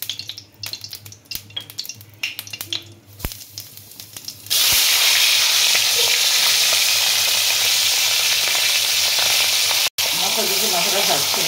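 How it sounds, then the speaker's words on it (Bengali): Hilsa fish head dropped into hot oil bursts into loud, steady sizzling and crackling that fills the kitchen, following quieter clinks and handling sounds, with a brief gap in the frying near the end. "মাথাটা ভাজছি আমি"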